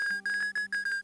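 Shrill electronic winning jingle from a slot-style machine in the horror game Corbaci, a piercing repeated tone pulsing about five times in a second, loud and alone.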